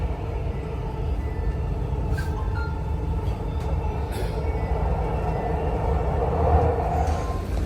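Dubai Metro train at Airport Terminal 1 station, a steady low rumble of a railcar running on the line, continuous and fairly loud with a slight swell near the end, no talking.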